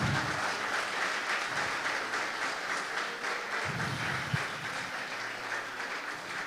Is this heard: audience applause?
yes